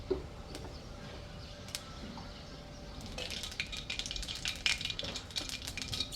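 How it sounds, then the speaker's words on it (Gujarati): Mustard and cumin seeds begin popping in hot oil in a heavy-bottomed pot, a quiet sizzle that turns into dense, rapid crackling and sputtering up close. "આપણું તેલ ગરમ થઈ ગયું છે અને રાઈ જીરું પણ મસ્ત ફૂટી ગયું છે"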